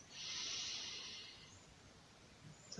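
A single long, soft inhalation through the nose during a guided breathing exercise, a faint airy hiss that swells and then fades, heard alone in a quiet room.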